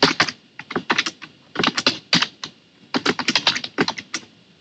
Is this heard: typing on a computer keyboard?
yes